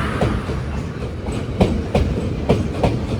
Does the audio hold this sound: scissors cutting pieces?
no